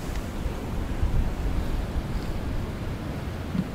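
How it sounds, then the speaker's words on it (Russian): Strong wind gusting around an abandoned palace in Russia, a loud, roaring rumble buffeting the microphone continuously with surging swells and no voices. "Такой ветер сильный."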